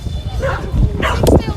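Dogs at the Hereford Dog Show bark and yip in short loud bursts close by, with a whimpering tone mixed in and crowd noise beneath.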